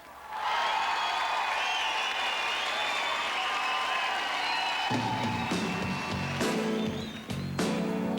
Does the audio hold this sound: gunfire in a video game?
no